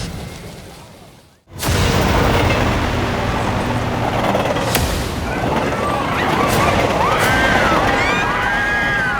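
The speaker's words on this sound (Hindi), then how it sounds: "जलती हुई रेल को बुझाने बड़े बालवीर को भी आना पड़ेगा" Burning train in a Hindi fantasy TV show: a sudden loud roar kicks in after a quiet moment and rumbles on steadily, with clanking hits and high squealing tones layered over it.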